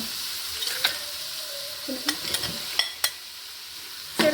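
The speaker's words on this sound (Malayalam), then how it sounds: "തക്കാളിയാണ് ചേർക്കാൻ വേണ്ടി പോകുന്നത്." Chopped tomatoes go into a sizzling pan for majboos, the steady frying hiss broken by several sharp spatula scrapes and clicks as the pan is stirred up close.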